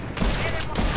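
Video game gunfire crackles in quick bursts, a couple of loud shots close together over a dense, busy game soundtrack.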